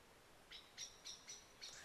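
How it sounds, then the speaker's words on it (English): A bird calling outdoors at Al Akhawayn University in Morocco, five short, high chirps spaced roughly a quarter second apart over a quiet hissy background, faint and somewhat distant. "bird."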